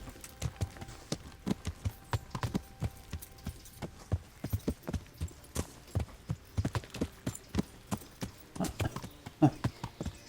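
Horse hooves clip-clop steadily in the video game Kingdom Come: Deliverance, a continuous rhythmic walking or trotting gait of close, distinct hoofbeats running the whole time with no talk over them.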